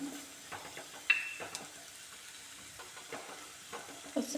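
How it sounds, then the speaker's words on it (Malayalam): A spoonful of chili powder sizzles in hot oil while it is stirred, a faint steady frying hiss marked by a few soft spoon taps against the pan. "ആ പൊടി ഒന്നിട്ടിട്ട് ചൂടാക്കിയെടുക്കാം ഇത് മുളക് പൊടിയാണ്"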